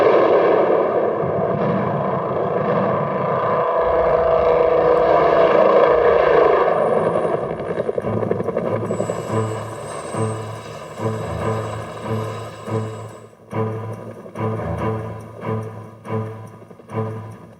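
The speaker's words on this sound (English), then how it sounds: "The distinctive sound of the rotor blades indicated that in one way or another," A Bell UH-1 Huey helicopter's rotor blades thump in a steady rhythmic beat, loud and close at first, then the engine whine fades and the individual blade slaps become distinct and spaced as the rotor winds down.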